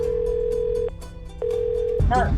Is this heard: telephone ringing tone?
yes